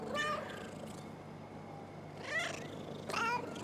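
A cat in the video game Gori: Cuddly Carnage makes short, soft vocal sounds with a purring quality, heard in three brief bursts with quiet pauses between them.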